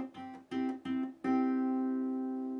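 Guitar plucks chord notes at normal tempo, a few quick soft strikes followed by a final one left to ring and decay, close and quiet, from the intro of a song.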